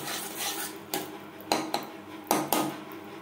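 A utensil scrapes and clinks against a pan while caramel is stirred over a low gas flame for yogurt, with several sharp metallic knocks over a soft, continuous scraping.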